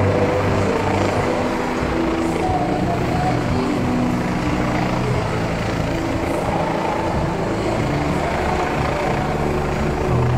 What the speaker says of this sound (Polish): Po co helikopter?